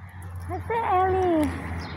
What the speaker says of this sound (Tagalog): May mga aso dito.